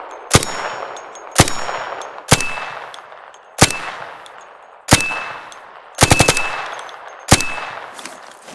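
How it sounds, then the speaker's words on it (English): Gunfire from the ARC Raiders video game, fitted with a muzzle brake: seven sharp, loud shots at a slow uneven pace, one a quick burst, each trailed by a high-pitched ringing tail and short decay. "Muzzle brakes will add a very high-pitched ringing to the guns"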